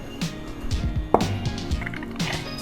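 Water pressed out of tofu being poured off, giving a few splashy drips and liquid sloshes along with a sharp knock, close and fairly quiet.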